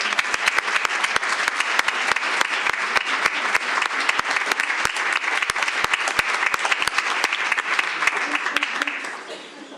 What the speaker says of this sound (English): let's give them another round of applause while we pause for a picture